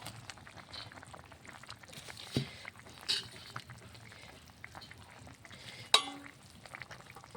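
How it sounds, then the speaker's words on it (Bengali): Tomatoes and coriander leaves cook in a simmering pan, a faint bubbling sizzle punctuated by a few louder scraping and clattering knocks from a spoon against the pan. "আমি এখন টমেটো আর ধনিয়া পাতাটা ভেজে দেবো"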